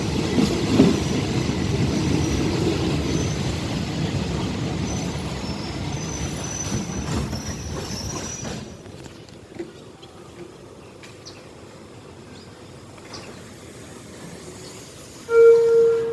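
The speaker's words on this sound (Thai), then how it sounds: "ก็ขบวนสี่ห้าถึงสถานีควนเนียงนะ" Train 455, an ordinary passenger service, pulling into Khuan Niang station in Thailand with a steady rumble of wheels and carriages that fades after about nine seconds to quieter platform ambience, then a brief high squeal at the end.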